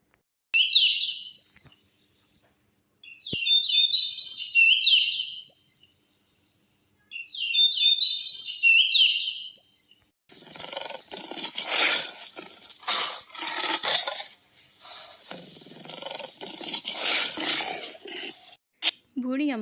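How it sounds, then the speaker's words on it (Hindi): Cartoon baby bird chirping in an animated fairy tale, three bright bursts of high tweets separated by pauses, followed by a narrator talking at length. "बूढ़ी अम्मा के घर में एक चिड़िया का बच्चा आ गया।"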